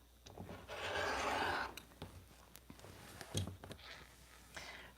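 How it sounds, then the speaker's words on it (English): Rotary or scissor cutting trims fabric on a cutting mat while making a patchwork pouch with fusible interfacing, giving one long rasping cut near the start followed by lighter scrapes and taps, close and quiet. "So I'll just find a spot that looks good, and then I'll trim this off."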